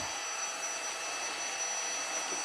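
A travel vacuum sealer sucking the air out of a storage bag, a steady close mechanical whirring hiss that holds level throughout, no talk.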